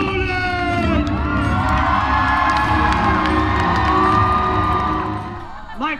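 Crowd at a Renaissance faire joust roars a battle cry for a knight, loud sustained cheering and whooping with children's shouts that fades near the end.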